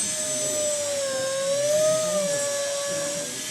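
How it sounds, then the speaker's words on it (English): A small drill whines steadily as it bores a hole in a hot air balloon ornament, a sustained high tone that wavers slightly in pitch, close and moderately loud throughout. "now I'm going to have to drill this"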